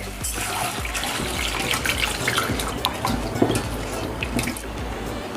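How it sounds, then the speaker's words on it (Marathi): Water runs steadily from a tap with soft splashing and small clinks as lentils are rinsed in a bowl. "ह्या दोन्ही डाळी आता स्वच्छ धुवून घ्यायच्या आहेत"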